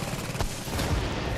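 Gunfire from The Division video game comes in a dense spray of rapid shots with sharp bursts throughout, mixed with game sound and a voice talking over it.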